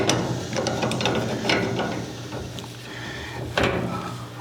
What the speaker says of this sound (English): I'm going to push down on that one while at the same time tightening up the hose